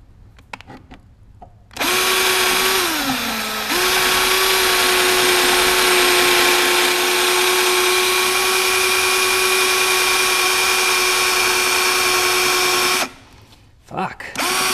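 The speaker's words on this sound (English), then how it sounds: "Helps to have a new drill bit." Power drill fitted with a new bit drilling during a Porsche 944 LS engine swap, one long loud sustained whine whose pitch dips briefly near the start, close by.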